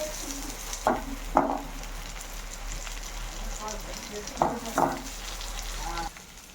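Eggs fry in a pan with a continuous close sizzle, broken by a few sharp bursts as they are moved or stirred, while a voice talks over the cooking.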